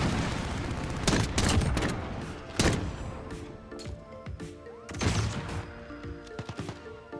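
Gunfire from a Desert Eagle .50 GS pistol in the shooter game Modern Warfare, several loud booming shots in separate bursts with echoing tails and clattering game effects between them, no talking.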